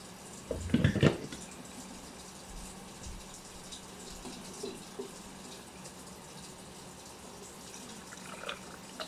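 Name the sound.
decaf coffee being poured into a cup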